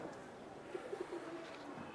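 Pakistani pigeons in a loft coo in a short run of soft, low, rolling notes around the middle, fairly close, over a quiet background hum.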